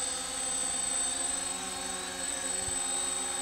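Scale flying model of the XC-142 VTOL aircraft in flight, a steady high-pitched electric motor and propeller whine with tonal harmonics, continuous and moderately loud throughout, no talking.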